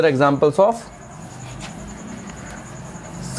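Marker or chalk scratches on a board during a ninth-grade physics class, a faint, continuous scraping of writing strokes following a short burst of a teacher's speech.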